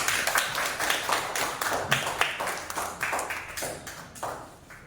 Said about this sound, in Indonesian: Kita kasih aplaus untuk Bibi.